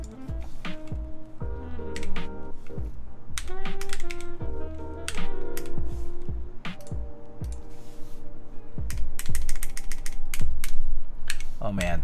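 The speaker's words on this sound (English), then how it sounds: "by the time I type Alex Otos, he's gonna end stream" Rapid typing on a mechanical keyboard during a Let's Split V3 build, a dense run of sharp clicky keystrokes close up, with some rattling mechanical noise mixed in and no talk.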